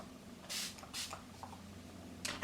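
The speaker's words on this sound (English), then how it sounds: "I'm gonna add a setting spray" Love Fix Plus setting spray is misted in two soft, short hissing spritzes close by, then a third brief spritz, ending in a sharp louder click or knock.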